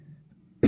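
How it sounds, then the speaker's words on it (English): One short, sharp cough near the end, close and fairly loud, after a quiet stretch with a faint low hum. "Sorry, I keep coughing."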